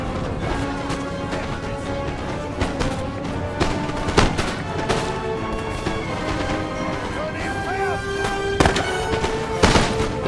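Musket volleys from line infantry in a Napoleon Total War 1v1 battle on the Pyramids map, sharp cracks and crackling fusillades popping irregularly at mid-distance, with someone talking over them throughout.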